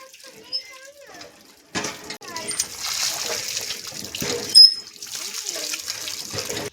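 Cut pieces of fish washed under a running tap, water streaming and splashing in bursts with handling noises, close up, while a voice speaks over it throughout.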